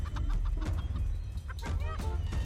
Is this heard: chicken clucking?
yes